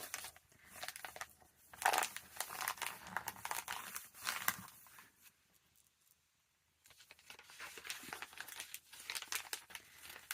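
Christmas magazine paper is handled and cut out for a collage, giving close crinkling and rustling in uneven bursts, a quiet lull partway through, then more paper noise.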